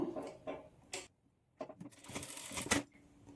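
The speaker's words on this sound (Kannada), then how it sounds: "ನೀಟಾಗಿ ಈ ಥರ ಫೋಲ್ಡ್ ಮಾಡಿಕೊಂಡು ಸ್ಟಿಚ್ ಮಾಡ್ಕೊಳ್ಬೇಕು" A sewing machine stitches along the folded edge of a blouse in short, fairly quiet whirring bursts broken by brief pauses, with a mechanical rattle and no speech.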